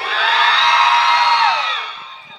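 A loud burst of crowd cheering and whooping, high excited voices together, swelling and then fading out after a couple of seconds.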